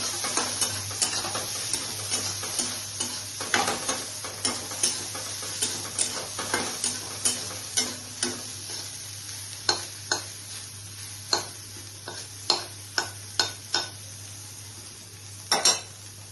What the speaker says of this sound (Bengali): এভাবে তেলে দিয়ে অল্প ভেজে নিচ্ছি।